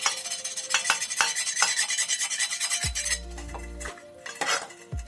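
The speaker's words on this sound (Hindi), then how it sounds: "बस हल्के हल्के से छुरी में रगड़ रही हूँ" A knife rubbed lightly over a burnt tawa griddle to scrape off the blackened residue, making close, rhythmic rasping strokes for about three seconds, then a low steady hum and a few more scrapes.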